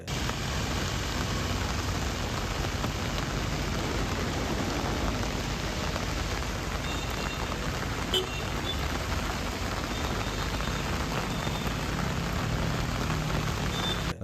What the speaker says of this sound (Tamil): ராணிப்பேட்டை மாவட்டம் அரக்கோணத்தில் 2வது நாளாக இரவில் கனமழை கொட்டி தீர்த்தது.